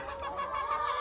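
Free-range chickens cluck together at a coop on a New Zealand farm, a steady dense flock chatter close by with no speech.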